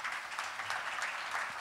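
Audience applause at a Renault corporate opening event, a steady wash of many hands clapping across the whole moment at moderate, somewhat distant level, with no talk over it.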